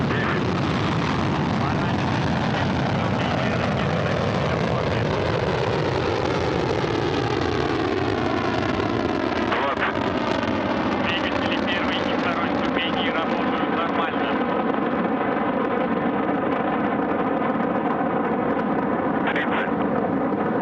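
A Soyuz 2.1a rocket carrying Progress MS-32 lifts off toward the International Space Station, its deep roar sustained and loud, with a crackling rumble that slowly falls in pitch as it climbs away.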